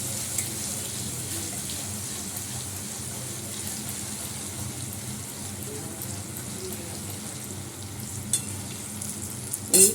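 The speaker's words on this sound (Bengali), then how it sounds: "এবারে রসুন পোড়াটা দিয়ে দিলাম। রসুনটা একটু ভালো করে ভাজা ভাজা হয়ে গন্ধ বেরোবে।" Garlic frying in a hot pan gives a steady, close sizzle with light stirring scrapes, a few sharper clinks near the end, and no talking.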